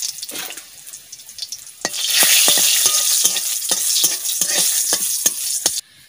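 Ground black pepper and cumin paste hits hot oil in a pan with quiet crackles, then bursts into a loud, close, fizzing sizzle that carries on steadily with scattered pops and stirring scrapes before stopping abruptly.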